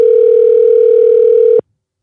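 A loud, steady telephone tone sounds while a call is being placed, holding one unbroken pitch for about a second and a half before cutting off abruptly into silence.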